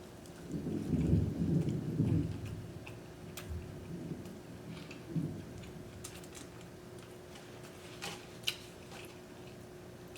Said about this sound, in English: it sounds like the thunder's coming on